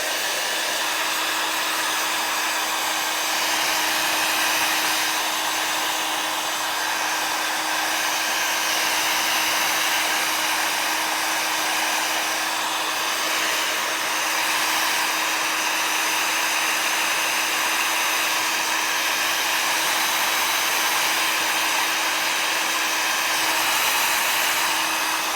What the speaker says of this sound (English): But let's hit it with the heat tool